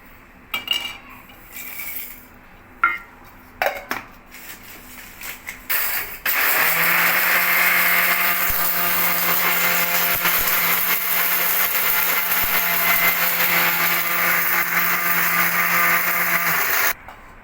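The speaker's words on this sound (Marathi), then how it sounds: "ते आता मिक्सर मध्ये बारीक वाटून घेणार आहे" A few clinks and clatters of garam masala spices being loaded, then a mixer grinder starts and whirs loudly and steadily for about ten seconds before stopping.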